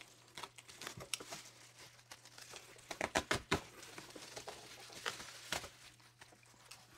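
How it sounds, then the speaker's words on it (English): Bubble wrap around a Funko Pop package being cut, heard as close, quiet crinkling and snipping with a cluster of sharper crackles in the middle and scattered rustles around it. "I'm just going to carefully cut the bubble wrap"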